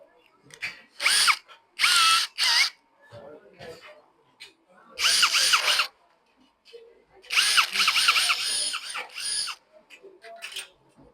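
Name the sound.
drilling into a door lock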